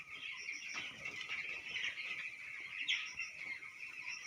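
Broiler chickens in a poultry farm make a continuous, dense chorus of high peeping and chirping from a large flock, close and steady, with no talk.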